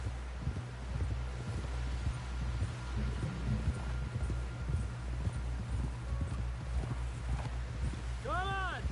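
Horse hooves clip-clop at a steady trot in the Red Dead video game, fairly loud and continuous under low rumbling music, with voices talking over part of it and a short whinny near the end.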